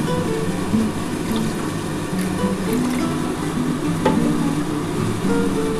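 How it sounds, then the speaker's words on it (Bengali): Water is poured into a heating karahi for sour masoor dal, a steady watery rush and gurgle that holds at an even level throughout, fairly close, with no talking. "আমি আগে প্রথমে কড়াকে জল দিয়ে দিলাম"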